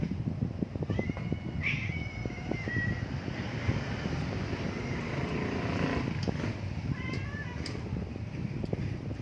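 Cats meow several times while circling someone eating breakfast, a few short high cries standing out over steady wind-like noise and low background rumble.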